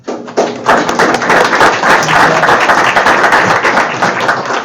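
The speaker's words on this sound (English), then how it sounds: "So a round of applause." Close, loud applause from a school board meeting audience, dense sharp claps beginning abruptly and holding steady for several seconds before tapering slightly.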